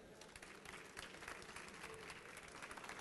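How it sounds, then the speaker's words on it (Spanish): An audience at a video game development conference claps in a dense, sustained round of applause that holds steady and fairly loud for the whole stretch, with some crowd murmur mixed in. "Les pido un aplauso"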